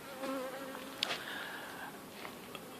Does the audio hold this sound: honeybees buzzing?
yes